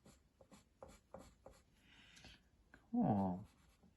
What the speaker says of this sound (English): go ahead and erase out these construction lines